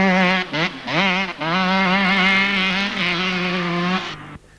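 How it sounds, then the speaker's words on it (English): A Kawasaki 125 enduro motorcycle on an off-road special test at the 1996 British Enduro Championship revs loud and close, its high engine note rising and dipping through quick throttle blips before cutting away. "Greg Pascoe from Colville, riding a Kawasaki 125."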